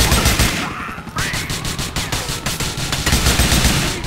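Rapid automatic gunfire from GTA IV: The Lost and Damned, loud and sustained, with dense bursts of shots rattling continuously throughout.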